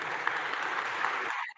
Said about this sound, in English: Yeah, that's where y'all clap.